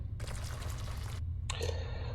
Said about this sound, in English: Right, we'll put some water in first.